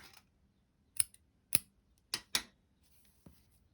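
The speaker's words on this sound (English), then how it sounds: "I'm just going to snip both of these off myself" Scissors snip through crochet yarn ends at a blue slip-stitched edge of a granny square, giving four or five sharp, close metallic cuts spaced irregularly over a few seconds in a quiet room, with no talking.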